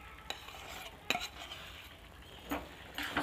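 Cumin paste stirred into frying spices in a kadhai, a quiet low sizzle broken by a few sharp spoon scrapes and clinks against the pan.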